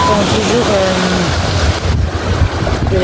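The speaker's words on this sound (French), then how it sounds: "Waouh! Les vagues d'eau." Ocean waves surge and crash against seaside rocks, a loud, continuous roar of water and surf mixed with heavy wind buffeting the microphone, while a person talks briefly over the noise near the start.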